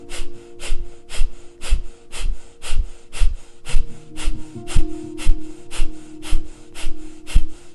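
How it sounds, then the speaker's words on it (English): Breath of fire: rapid, forceful nasal breathing with the navel pumping, about two sharp exhalations per second in a steady rhythm, close and clear, with a faint tonal drone underneath. "Now you'll continue with that breath, breathing in and out of the nose, pumping this navel."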